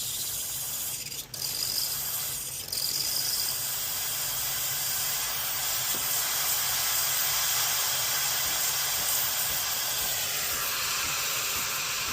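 A steady, broadband hiss of steam from a Breville BES870XL espresso machine wand runs continuously, with a couple of brief knocks near the start.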